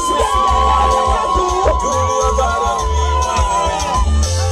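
Women in a church crowd ululate loudly in praise during a live gospel show, their wavering trills and cheers continuous over thumping music, with some voices mixed into the din.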